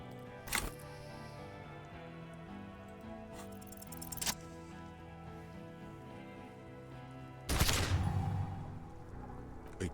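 A gunshot from the detective game Disco Elysium cracks out as a sudden loud blast over a quiet, droning musical backdrop, followed by a smaller impact and then a longer burst of noisy, crackling report that lingers for a couple of seconds.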